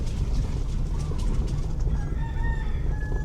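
A rooster crows on an island in French Polynesia, a short, fairly distant call heard over steady outdoor background noise.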